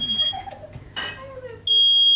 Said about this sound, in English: Smoke alarm's going.